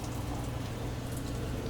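Steady rain patters densely and evenly outdoors, a close continuous wash of drops with no distinct thunder audible in the short stretch.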